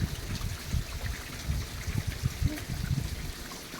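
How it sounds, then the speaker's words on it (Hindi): Water trickling and dripping down like a small waterfall inside a hillside cave in rocky hill country near Gogunda, Udaipur, a steady close splashing patter with low rumble and no talk. "ऊपर से ये पानी झर रहा है, पूरा झरने की तरह झरने ऊपर से।"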